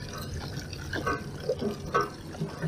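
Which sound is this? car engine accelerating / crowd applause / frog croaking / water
water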